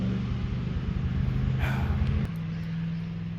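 Big block Dodge D100 with a dual-quad tunnel ram idling close by, a loud, steady low rumble with a slightly uneven, stumbling beat that drops to a smoother idle partway through.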